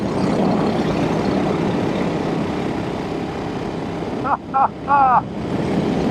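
A 1964 Velocette Venom Veeline Clubman motorcycle running in fourth gear gives a loud, steady engine drone, with a few brief chirping sounds near the end.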